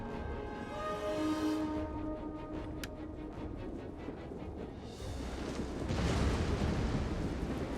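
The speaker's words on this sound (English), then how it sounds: "These explosive rounds with the ballistas" Explosive ballista rounds in a Total War: Rome 2 battle in Gaul rumble as a continuous wash of blasts and booms, swelling louder toward the end.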